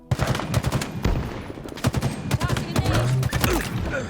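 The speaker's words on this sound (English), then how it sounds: "you can almost feel the recoil of the battle rifle on your shoulder" Battle rifle fire in the video game Halo Infinite: rapid bursts of sharp, punchy shots repeating closely over a dense combat background, loud and near.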